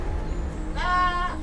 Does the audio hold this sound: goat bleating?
yes